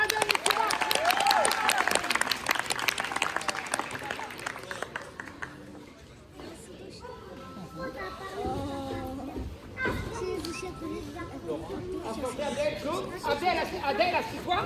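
A crowd at a magic show breaks into applause for a young volunteer, claps and excited children's chatter filling the first few seconds, then thinning out as a voice starts talking over the fading noise.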